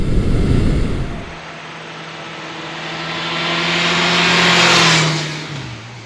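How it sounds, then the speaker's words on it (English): A Honda CB750 Nighthawk motorcycle engine revs hard, then settles into a steady tone that climbs and swells again before easing off, close and loud. "This bike definitely seems to pick up revs quicker than before."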